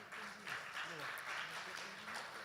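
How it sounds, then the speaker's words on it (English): Faint scattered clapping from a small conference audience after a plenary talk, with talk over it. "So let us give a big round of applause to Professor AZHAN."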